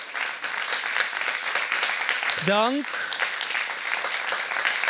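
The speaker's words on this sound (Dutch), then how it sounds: "Mag ik in ieder geval een keihard daverend applaus voor mijn 4 panelleden." An audience gives a loud, sustained round of applause for four panel members, with a brief spoken word of thanks cutting through the clapping midway.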